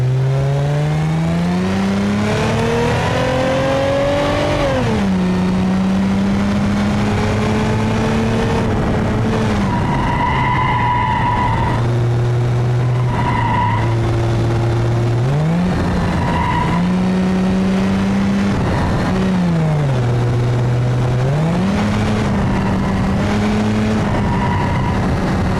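A Bruckell base coupe in BeamNG.drive drives with a loud, close engine that revs up and down through repeated accelerations and gear shifts, and tires squeal at times, with no talk.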